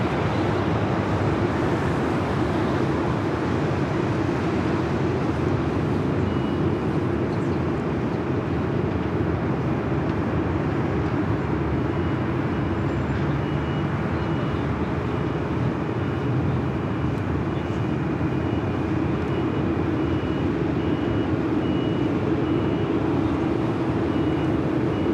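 A Korean Air Boeing 747-8 Intercontinental takes off from Los Angeles airport, a steady, loud, broadband jet roar that holds evenly throughout with no talk.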